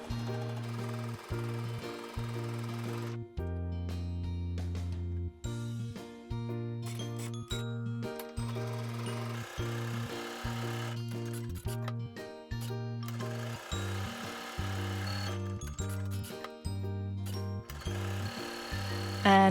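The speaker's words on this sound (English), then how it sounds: "And then I start quilting it by machine." A sewing machine stitches quilting lines across a fabric panel in close, even bursts of motor whir with brief pauses between runs, nothing else heard over it.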